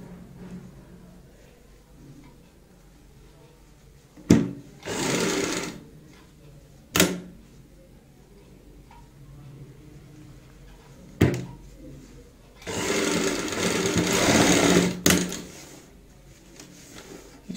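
A sewing machine stitches a small frill onto a fabric cushion cover in two whirring runs, separated by sharp clicks and knocks of handling and quiet pauses.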